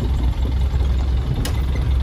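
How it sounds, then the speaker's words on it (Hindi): Old-model Eicher Pro truck engine running steadily with a constant low rumble, loud and close, with no talk over it. "और अभी तक इंजन का साउंड देखो आप"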